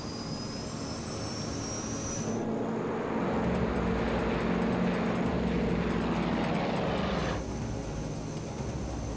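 Santa Bárbara Airlines jet airliner taking off in a dramatized scene, jet engines roaring loud and steady, a high whine fading as the thrust settles into a continuous heavy rush, no talking.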